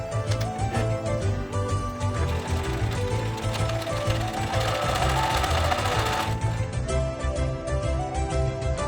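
A sewing machine stitches the side seams of a green velvet vest, whirring and clattering fast and steadily up close. The sound barely lets up.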